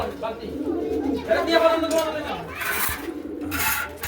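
Pigeons offered for sale coo in a loose, low burbling run, close by, while people talk over them.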